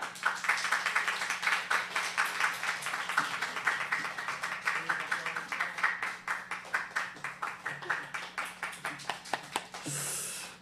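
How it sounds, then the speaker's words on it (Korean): Steady rhythmic clapping from a church congregation during a Sunday worship service welcoming a newly registered member, moderately distant and continuing for about ten seconds before tapering off. "큰 박수로 이제 함께 축복해 주시고 환영해 주시면 좋겠습니다."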